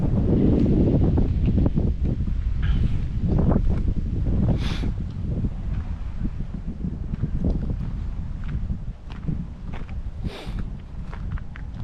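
Gusty wind blasts across the microphone in heavy low rumbles, with faint scuffs and movement underneath.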